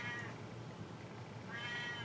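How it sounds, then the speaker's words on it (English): Domestic cat meowing outside a closed door indoors: two faint, muffled meows separated by a pause, quiet and distant in a still room. "I have a cat meowing outside my door"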